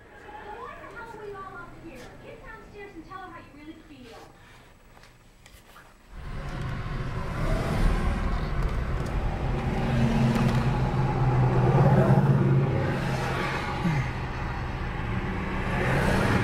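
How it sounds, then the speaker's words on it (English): Rush-hour traffic at a big bypass 19E intersection in Spruce Pine: a steady, loud roar of passing cars and engines builds in partway through and keeps going, with a faint patterned sound before it. "At the big intersection of the bypass 19E at Spruce Pine, and the traffic is just murder here at rush hour"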